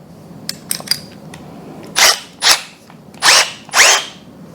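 A compact Milwaukee M12 Fuel cordless drill drives a 28 mm Ingco spade bit, giving four loud, broad bursts of drilling, each about half a second long, after a few light clicks and taps.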